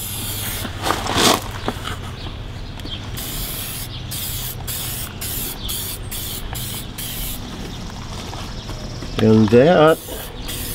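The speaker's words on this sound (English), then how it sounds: "and just give it a good spray." Aluminum cleaner is sprayed from a spray bottle onto metal in short hissing bursts, with a few quick squirts early on and a final pair near the end, while someone speaks briefly.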